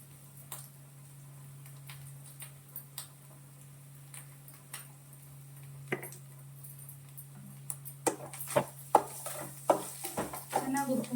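Grated coconut stirred and fried in oil in a home pan for coconut rice: a faint sizzle under scattered scrapes and spoon clicks that grow louder and busier toward the end, with a steady hum behind them.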